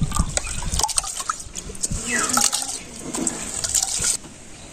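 Rice tipped into a pot of water on a village kitchen fire, giving a run of soft splashes and pouring, close and moderately loud, with no talk.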